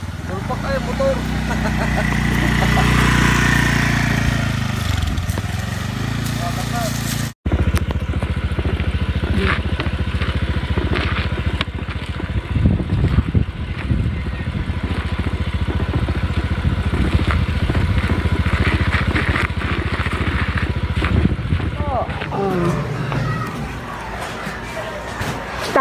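A motorcycle engine runs steadily, a loud continuous mid-pitched drone with occasional clatter, heard under people talking throughout.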